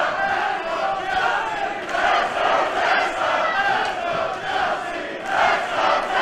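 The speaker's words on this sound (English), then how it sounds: "Seems to me that the crowd split right down the middle, cheering for both women." Wrestling arena crowd at a women's match cheering and shouting in loud, sustained waves that swell and ease, with no clear speech over the din.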